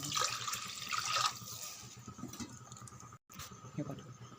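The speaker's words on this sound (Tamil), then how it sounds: "இந்த டைமில் நம்ம தண்ணி விட்டுடலாம்." Water is poured from a tumbler into a cooking pot for tomato rice, a splashing pour near the start that fades into softer trickles and drips, ending with a brief gap and light clinking.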